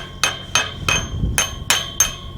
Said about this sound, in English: If you'll just take that hammer, Dakota, and tap these jacks that way a touc